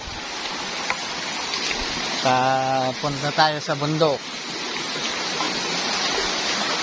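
Clear water of a mountain creek flowing steadily as a broad, constant rush close by, with someone speaking over it partway through.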